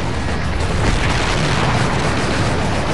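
An AT-4 rocket blast aimed at enemies in a bunker during a battle to take Baghdad, heard as a sustained, loud, dense rumble of explosion and battle noise filling the whole stretch without a clear single onset.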